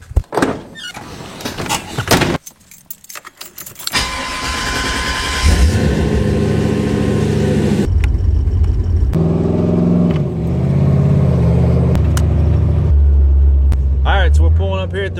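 Someone climbs into a car, with a few sharp door and handling clunks up close, then the engine starts and a steady, loud interior rumble builds as the car drives off.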